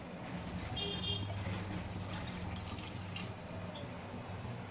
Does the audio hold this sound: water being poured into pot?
yes